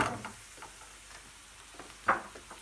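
Peppers frying in a pan are stirred, with a soft sizzle under scattered light scraping and tapping clicks, including one sharper knock near the end and no talk.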